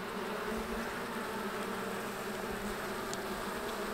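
A steady, dense buzz of honey bees fills an opened hive going into winter, close and even throughout, with no talking.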